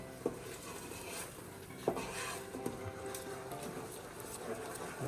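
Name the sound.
stirring pozole verde ingredients in a pot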